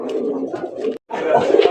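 A male native domestic pigeon, white-breasted and white-tailed, coos close by in two deep, throaty bursts separated by a brief pause.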